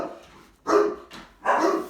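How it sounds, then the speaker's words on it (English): A big dog barks outdoors near a house, two loud, deep barks about a second apart, each a short cluster of rough woofs rising out of quiet. "That's what big dogs sound like."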